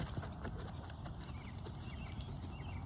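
Horse hooves thud in a steady rhythmic beat on an arena surface during a counter canter in a riding lesson, fairly faint against a noisy open background.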